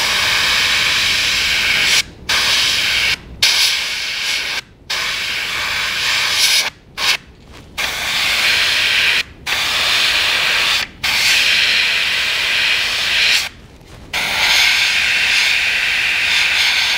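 An airbrush or spray can hisses loudly and steadily while painting the gill plates of a fishing lure, broken by about ten short pauses of silence between bursts of spray.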